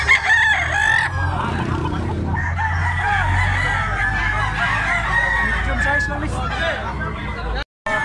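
Roosters crow and cluck repeatedly nearby, layered over a busy crowd of voices chattering throughout.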